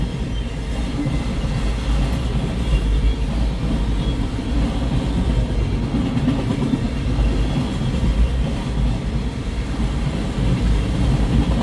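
CN freight train M357 rolls past at Ladysmith, Wisconsin, a steady loud rumble of wagons and wheels that holds constant throughout, with no talk.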